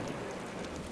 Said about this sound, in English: As the storm intensifies, thunder and lightning drown out the relentless beating rain.